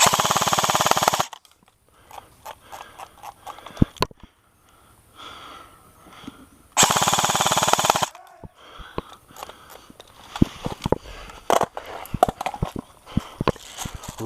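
An airsoft gun at an outdoor game rips through magazines in long sustained bursts of rapid fire, separated by quieter stretches of scattered pops and shuffling movement nearby.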